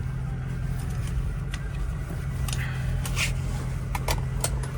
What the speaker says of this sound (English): I'll go ahead and take it for a quick little drive